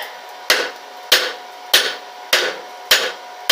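Blacksmith's hammer striking hot round rebar stock on an anvil edge, six sharp ringing blows at a steady rhythm about every 0.6 seconds, loud and close with no talk.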